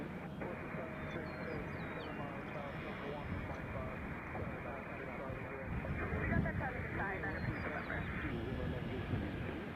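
Distant airliners arrive at Nashville International Airport in a steady, unbroken roar of engine noise that swells slightly midway, with a faint hiss on top.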